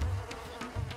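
Flies buzzing in the DayZ survival game, a continuous insect drone lasting about a second with a steady low hum that swells near the end, heard on its own without talk.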